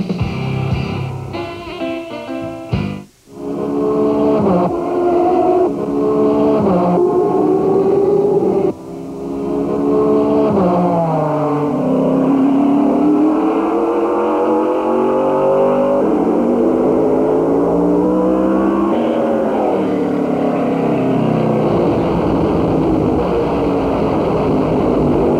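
NASCAR stock cars racing around the track late in a race, a loud sustained engine roar that rises and falls in pitch as the cars pass, steady and dense throughout.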